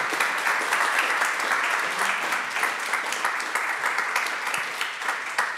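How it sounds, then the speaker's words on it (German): Conference audience applause, a dense and continuous patter of many hands clapping, loud and sustained across several seconds before easing slightly toward the end. "Bitte um einen Applaus"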